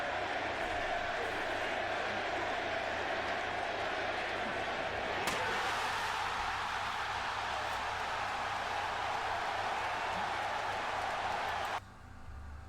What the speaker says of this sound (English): This moment here, just the response from the crowd is amazing.